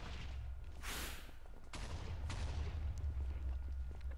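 Minecraft boss fight against the wither, with a few sharp shots and blasts bursting out over a steady low rumble, spaced irregularly through the clip.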